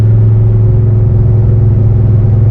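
The War Admiral street car, fitted with a screamer pipe, idles and revs with its front and two rear exhaust cutouts open, a loud, deep, throbbing engine rumble that holds steady close by, with no voices.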